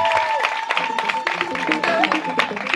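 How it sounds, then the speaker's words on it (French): Crowd at a political gathering applauding a union confederation president, a scattered ripple of clapping under a hum and someone talking over it. "Applaudissons encore pour lui."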